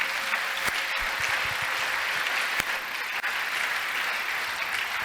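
A church congregation claps and cheers for the Lord in a steady, dense wave of applause that holds for the whole stretch, loud and close, with no words spoken.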